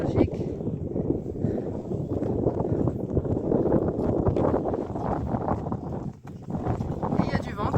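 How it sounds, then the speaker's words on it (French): Strong wind buffets the microphone on an exposed mountain summit near the Mont Aigoual weather observatory, a loud, steady roar that continues for the whole stretch with only a brief dip near the end. "Et il y a du vent comme d'habitude."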